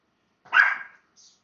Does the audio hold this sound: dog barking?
yes